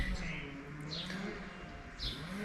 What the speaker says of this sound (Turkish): Hava çok güzel. Kuşlar ötüşüyor.